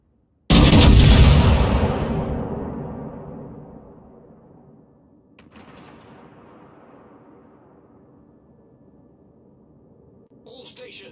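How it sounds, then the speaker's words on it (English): Montana battleship's main guns firing in a naval warfare video game: one huge close boom with a long rolling decay, followed by a fainter distant rumble and a short crackle at the end. "Concentrate fire on the designated target."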